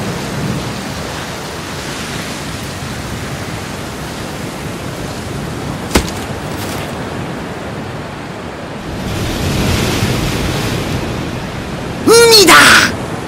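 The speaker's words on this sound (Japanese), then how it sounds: "海だ。" Broad, steady wash of ocean surf along a seashore, rising into a louder surge toward the end, with a single sharp tick partway through and a brief bright chime-like burst near the close.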